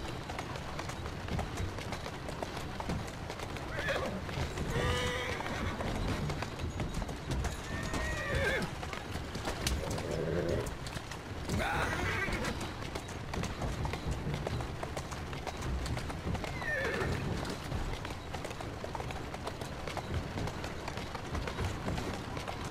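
Horse hooves clip-clop steadily at a run while a horse neighs and whinnies a few times, all within the Assassin's Creed Syndicate video game, with a continuous game soundscape underneath.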